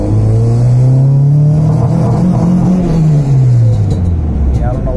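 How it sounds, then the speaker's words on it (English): Honda car engine revving up toward VTEC while driving, a loud in-car engine drone rising in pitch then falling back, with a steady road roar throughout. "It's right at 140, so VTEC should crack right now."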